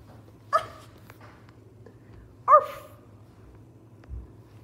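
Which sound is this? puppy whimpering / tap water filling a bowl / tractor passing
puppy whimpering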